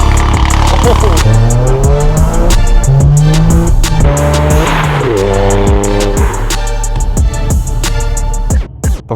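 A Toyota GR Corolla with a three-cylinder turbo engine drives hard, its note loud and close as the pitch climbs and drops through repeated revs and gear changes, with a brief tire squeal near the end.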